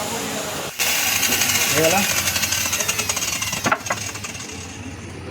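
An electric power saw cutting wood for a bed frame in a workshop, a loud buzzing cut that starts abruptly and runs with rattling vibration, pausing briefly near the end while someone talks over it.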